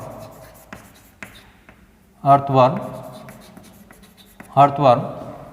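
A marker or chalk writes on a classroom board during a biology lesson, with two short squeaky, scratchy bursts of strokes standing out over quiet room noise.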